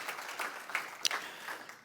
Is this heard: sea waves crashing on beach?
no